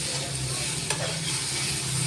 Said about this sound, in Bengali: এবারও আবার ভালো করে নাড়বো।